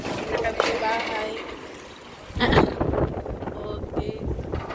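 Gusty wind buffets the microphone with low rumbling bursts, while voices talk and shout nearby over the blustery noise.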